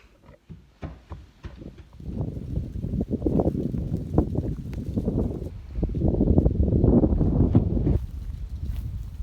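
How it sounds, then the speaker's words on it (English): Heavy wind buffeting a microphone, low rumbling gusts that rise and fall for several seconds after a few sharp knocks at the start. "It's a windy day"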